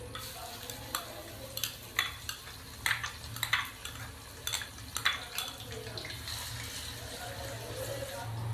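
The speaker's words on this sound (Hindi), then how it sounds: "ऑयल हमारा गर्म हो चुका है। तो अब हम इसके अंदर प्याज शामिल कर देंगे।" Chopped onions sizzle in hot cooking oil in a kadai for a fish curry, with a steady low frying hiss and repeated clinks and scrapes of stirring.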